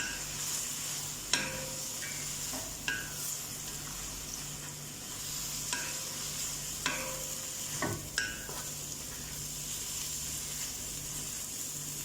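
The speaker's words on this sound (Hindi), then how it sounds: "एक से 2 मिनट वेजिटेबल को स्टर" Cabbage and other vegetables being stir-fried for hakka noodles, a steady low sizzle with scattered utensil scrapes and clinks against the pan, fairly faint and close, with no one talking.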